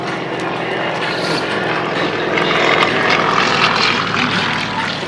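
A Yak-52 propeller plane at an outdoor airshow gives a loud, continuous engine drone with a rasping buzz that swells slightly partway through. A voice is faintly audible under the noise.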